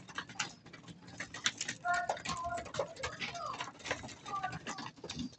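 Several pet pigeons coo and rustle close by, hungry before feeding, with soft busy chatter, scattered ticking taps and a few brief tonal calls running throughout.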